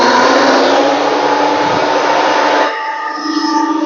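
A Makita 2012NB thicknesser planing 300 mm wide solid oak gives a loud steady motor whine with a cutting roar, easing to a lighter hum near the end as the board clears the blades; no speech.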